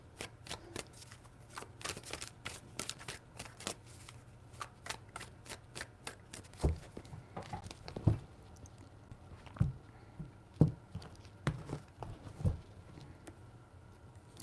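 Tarot cards being shuffled and handled up close, a steady patter of soft flicks and slaps with a few sharper taps later, quiet and with no talking.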